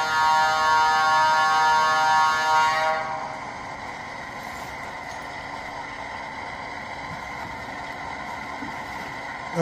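Rapido HO scale EMD E9A model locomotive in Illinois Central livery sounding a held multi-tone horn for about three seconds, then cutting off and leaving a faint hum.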